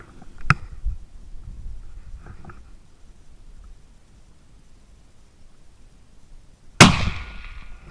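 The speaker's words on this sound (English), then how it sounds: "I'm going to get set up on sticks, take a shot now" Rifle shot fired from shooting sticks at a roe buck during a stalk, a single loud crack near the end following a faint earlier click, set against quiet outdoor background.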